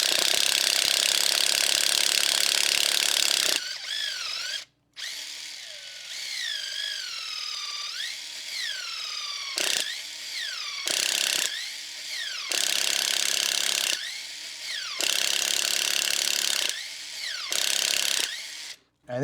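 A 7.2V pen driver bores into wood with a large drill bit, a close, whining motor with rising pitch sweeps, running in several bursts separated by short pauses.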